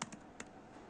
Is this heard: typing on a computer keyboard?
yes